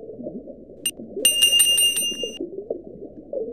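A bright bicycle-style bell rings from the I Spy Fantasy video game, one quick ding followed by a rapid cluster of shimmering rings that fade out, heard over a low murmur of background music.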